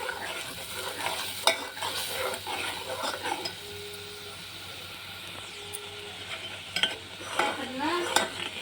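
A kadhi mixture of buttermilk and gram flour is stirred in a pan, with soft, continuous scraping and swishing, an occasional utensil tap and a faint sizzle underneath.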